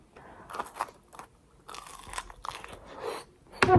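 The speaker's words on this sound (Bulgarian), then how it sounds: "Хапна само от тестото." Someone bites into homemade dumpling dough and chews it alone, several crisp crunchy bites and mouth sounds spaced apart, ending in one louder close crunch, with no talk.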